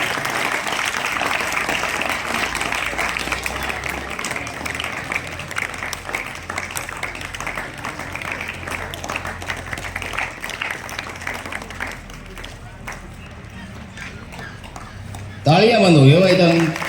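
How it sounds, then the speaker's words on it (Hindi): Audience clapping for a student who placed on the board merit list at a Haryana government senior secondary school prize ceremony, dense sustained applause near and loud, fading slightly before a voice cuts in at the end. "तालियां बजाते रहो भाई"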